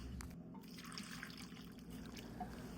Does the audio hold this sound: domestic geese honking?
no